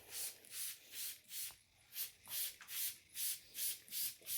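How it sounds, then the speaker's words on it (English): Repeated bursts of water spray hissing in a steady rhythm, about ten short squirts close by on the outside of mushroom-growing buckets, each separated by a brief pause. "I spray the outside of the buckets like this"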